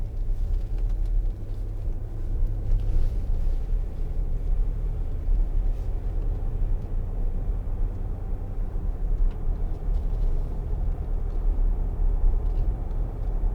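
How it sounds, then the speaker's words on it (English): Cabin rumble of a 2008 Land Rover Discovery 3 2.7 TD V6 HSE on air suspension driving along a bumpy road, a steady low engine and road drone with no talk. "Air suspension soaks up all the bumps. And it is a bumpy road along here."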